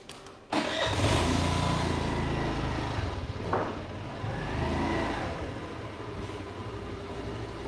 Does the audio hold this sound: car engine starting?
yes